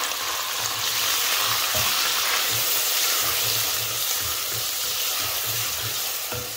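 Chopped onion fries in oil alongside browned garlic, producing a loud, continuous sizzle close by with faint low thumps of stirring underneath.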